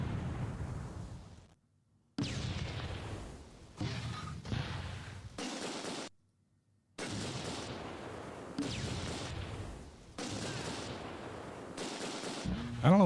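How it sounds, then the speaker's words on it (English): Gunfire and explosions from the wartime strategy game Close Combat 2: A Bridge Too Far, with bursts of shots and mortar blasts coming in several loud stretches broken by brief silences. "I don't know what this gun is shooting at"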